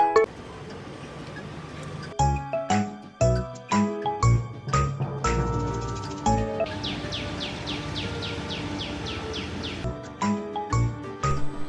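A phone ringtone plays a repeating bright electronic melody of tinkling notes, looping several times close by with no talking.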